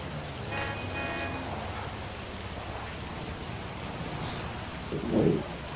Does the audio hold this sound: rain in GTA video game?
yes